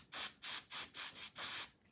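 Five quick bursts of spray foundation misted onto a face, each a short breathy hiss with brief pauses between, close and fairly soft, with no talking.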